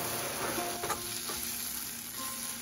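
Okra masala (bhendi) stirred in a frying pan after a squeeze of lemon, giving a steady close sizzle with soft scraping and stirring strokes and no voices.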